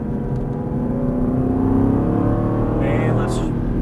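Aston Martin GT race car engine revving and accelerating on a Las Vegas track, a steady loud drone that climbs in pitch, with someone talking over it.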